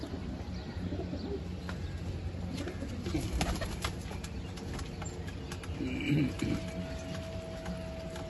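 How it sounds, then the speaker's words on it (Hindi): Soft cooing of a China pigeon amid a noisy backdrop of other birds and chatter, with a louder burst of cooing near the end. "चौथा है चीना कबूतर।"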